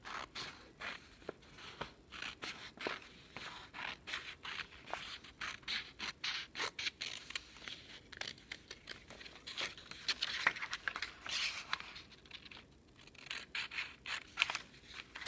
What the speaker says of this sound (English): you are cutting it with your scissors